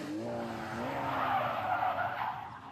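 A car's tires skid and squeal as the car spins almost a full 360, with a rising engine note under a long, loud, sustained screech.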